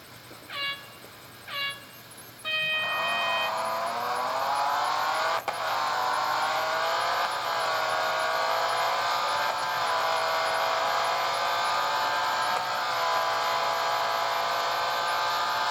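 Racing game car engine on a national circuit track, two short revs then a sustained loud high-pitched drone that rises and falls with gear shifts, steady and close throughout with no voices.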